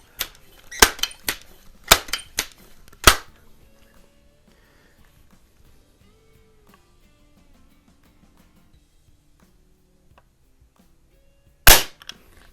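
A Benjamin 397 pump air rifle firing 7-grain .177 pellets gives a quick burst of sharp, close snaps in the first few seconds, then near silence, then one more loud crack near the end.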